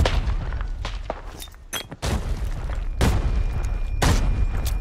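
Explosions in a multiplayer shooter, several heavy booming blasts landing in quick succession over a few seconds, loud and close, with no talk over them.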